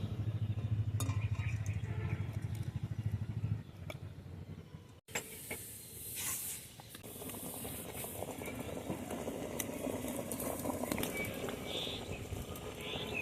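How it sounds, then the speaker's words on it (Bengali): Quail eggs boil in water in a wok, giving a steady rush of bubbling that breaks off briefly midway and then resumes at a similar level. "কোয়েল পাখির ডিমগুলো আমি সেদ্ধ করতে বসিয়ে দেব"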